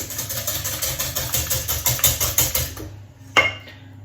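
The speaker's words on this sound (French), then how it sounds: "Et je vais mélanger au fouet." Sugar and homemade vanilla sugar are whisked by hand in a bowl, making quick, rhythmic scraping strokes for about three seconds. The strokes stop, and a single sharp clink follows.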